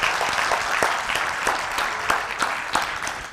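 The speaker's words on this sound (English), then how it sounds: "Give them a hand clap" A church congregation claps together in a lively round of applause, with sharp, uneven hand claps layered over a steady patter that holds throughout the short burst.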